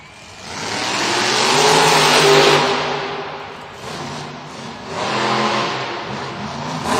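A monster truck engine at a Monster Jam arena event in Cincinnati, Ohio, rising to a loud roaring rev, easing off, then revving again, heard alone without talk.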